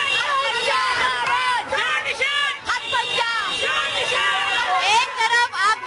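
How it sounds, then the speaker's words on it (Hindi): A crowd of women chants slogans against Kejriwal at a road show in Patiala, their raised, rhythmic voices loud and close over a steady din of mixed shouting and babble. "कुछ औरतें इस बार केजरीवाल को वापस जाने के लिए कह रही हैं, उनके खिलाफ नारे लगा रही है"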